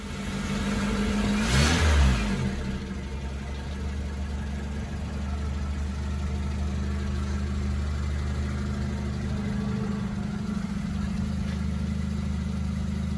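A 1984 Honda CRX engine gives a brief rev swell near the start, then settles into a steady mid-pitched idle hum that stays constant and fairly close for the rest of the stretch.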